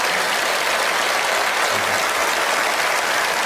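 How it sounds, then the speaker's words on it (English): Audience applause at a magic show, a loud, dense, steady clapping that fills the whole stretch without pause. "Give yourselves a big round of applause."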